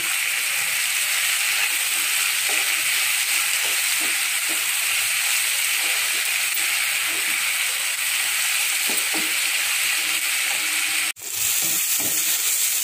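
Onion and tomato sautéing in a pan for capsicum gravy, a loud continuous frying hiss with occasional stirring clicks and one sharp tap near the end, no voices.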